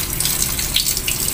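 Water runs loudly and continuously while a poodle is being bathed, a close, even gush with no pauses.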